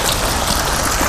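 Water splashes and bubbles steadily into a round throne bowl fountain, a dense, close, continuous rush like heavy rain, with no voices.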